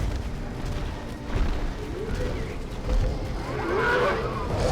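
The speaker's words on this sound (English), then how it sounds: "all of the barracks by Funkee here went down immediately by breath of fire" Dragon's fire breath levelling barracks in Battle for Middle-earth II, a continuous roaring, rumbling blast with crackling bursts and booms swelling toward the end, loud and sustained under game ambience.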